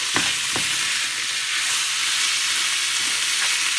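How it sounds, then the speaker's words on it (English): Hamburger meat frying together with onions in a hot pan, heard as a steady close sizzle with a few brief stirring scrapes near the start, no talking. "we're going to incorporate the hamburger in with the onions here until it's all"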